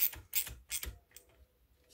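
Metallic clicks and scraping as a front engine cover is tightened on a Dnepr MT 10-36 sidecar motorcycle: a few close, sharp ratcheting bursts, then quieter ticks.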